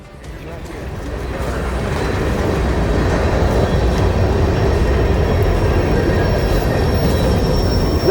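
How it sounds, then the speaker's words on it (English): A Norfolk Southern freight train rolls through the Old Fort Loops, a loud rumble that builds and then holds steady, with faint wheel squeal and clatter. A faint voice may be present beneath it. "the train would once again be on the move"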